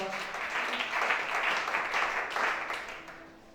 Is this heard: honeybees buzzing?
no